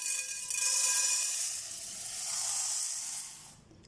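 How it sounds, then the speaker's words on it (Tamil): One cup of toor dal pours into a hot kadai for dry roasting, giving a steady, soft, high hiss and rustle that runs for a few seconds and then stops abruptly. "இப்போ 1 கப் அளவு தூர் தால் போட்டுக்கிறேன்"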